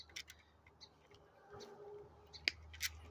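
Wire being snipped by hand, a few sharp, close clicks and snaps scattered among quiet rustling, with a louder crisp cut near the end.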